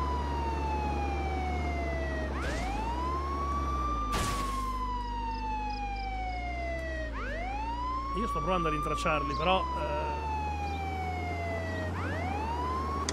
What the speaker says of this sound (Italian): questo sirena mi sta facendo dell'emicrania